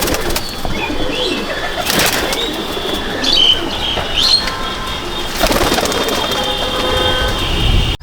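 Madrasi pigeons in a backyard loft coo softly amid steady ambient hiss, with a few brighter calls and short bursts that sound like flapping wings.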